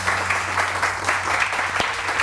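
A studio audience on a morning television show applauds a chef, a dense, steady burst of many hands clapping close by for a couple of seconds, with no talk over it.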